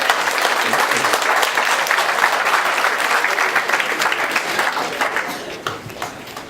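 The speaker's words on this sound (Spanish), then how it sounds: "vamos a darles un aplauso a Cristina" Audience applause for Cristina at a talk on a governor election, a dense, steady wash of many hands clapping close by, holding strong for most of the stretch before thinning slightly at the end.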